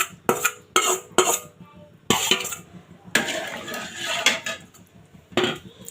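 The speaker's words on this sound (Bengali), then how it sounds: "তাই যতক্ষণ পর্যন্ত এটা শুকিয়ে না আসবে ততক্ষণ নাড়তে থাকতে হবে।" Halim is stirred in a pot with a spoon that clatters and scrapes against the metal in irregular bursts, some sharp knocks and some longer scraping passages, close and fairly loud.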